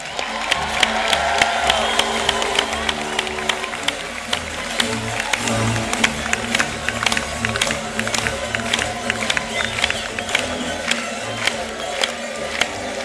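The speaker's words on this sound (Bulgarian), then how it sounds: "Аплодисменти!" Audience applause at the 19th International Folklore Festival in Plovdiv, 2013, rhythmic crowd clapping with sharp distinct claps over a busy background of cheering and crowd noise, steady across the whole span.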